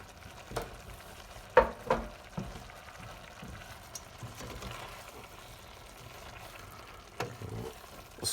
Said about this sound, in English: Stir those through.